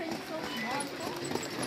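Horses trot in a baby novice harness race at Amman Valley, a quick clip-clop of hooves under a continuous race commentary voice.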